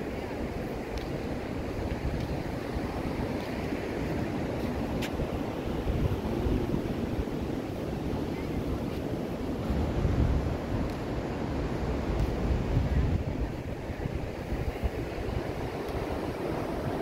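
Ocean surf rolls onto the beach at Daytona Beach, Florida, in a loud, continuous wash. Wind buffets the microphone on the waterfront throughout.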